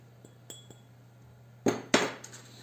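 Recyclable glass items clink together in a few short, sharp taps, two louder knocks coming close together near the end, with no talking.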